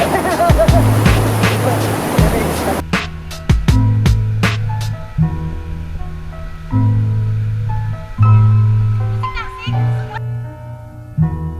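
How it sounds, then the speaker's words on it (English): Waterfall at a sulfur hot spring near Bacolod in the Philippines: a loud, steady rush of falling water fills the first few seconds, then continues as a softer wash beneath people talking. "This is probably one of the nicest waterfalls we've ever found in the Philippines"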